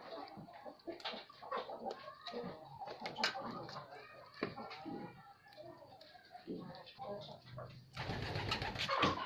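Domestic pigeons from a backyard flock coo repeatedly in a dense, close chorus, with soft human voices and bird chatter around them and a louder flurry near the end.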